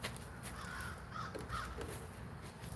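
Crows caw outdoors at a rock-cutting session, their harsh calls repeating a few times at moderate distance over a steady low background hum.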